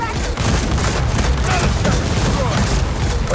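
Grenade blast in a Gears of War 4 co-op campaign: a dense, loud rumbling boom with crackling debris, blended into constant heavy battle noise and gunfire, with no clear separate onset.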